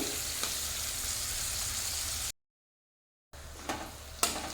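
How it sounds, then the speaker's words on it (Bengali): Potato, onion and tomato fry in a pan for chow mein, a steady close sizzle with stirring scrapes, a brief cut to silence, then quieter frying with sharp utensil knocks. "আলু পেঁয়াজ খুব ভালো মতো করে ভাজা হয়ে গেছে।"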